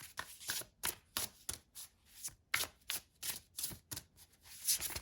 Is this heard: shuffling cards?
yes